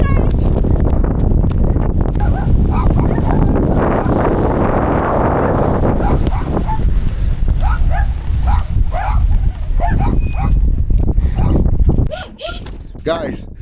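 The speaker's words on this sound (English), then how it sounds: "The dogs are barking up a storm already" Dogs at a house barking up a storm as a vehicle towing a Nissan arrives. Repeated sharp barks come through steady wind rumble, with people talking.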